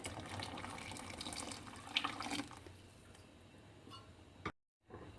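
Hot water, two and a half cups, pours into a pot of simmering Iraqi okra stew with tomato juice and paste, a steady splashing stream that tapers off to a faint bubbling, then a brief silence.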